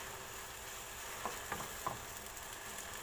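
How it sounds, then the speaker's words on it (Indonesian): Spicy Indomie noodles with seasoning and chili stirred in a pan, a steady frying sizzle broken by a few light scraping stirs, close and fairly quiet with no voices. "Lalu kita kasih aduk."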